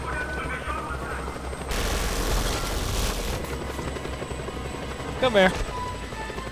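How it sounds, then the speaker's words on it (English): Military helicopter in the video game Just Cause 2, a steady rotor and engine roar running under gunfire and explosions, with a voice speaking briefly near the end. "That helicopter will tear us to pieces!"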